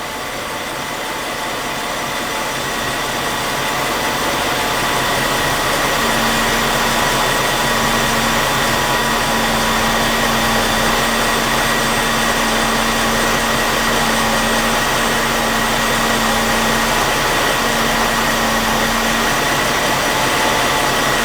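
A car engine idles steadily after an engine flush and fresh oil change, a loud continuous droning hum with a faint whine, unchanging throughout with no talking.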